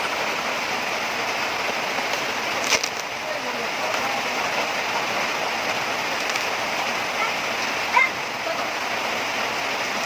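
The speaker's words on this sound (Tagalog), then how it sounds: "Grabe ang lakas ng ulan." Heavy rain pours steadily over farmland under a dark sky, a dense, constant roar of drops that never lets up, with no voice over it.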